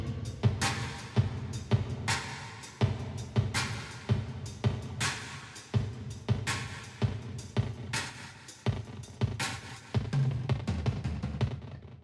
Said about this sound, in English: So it sounds like this kind of crazy delay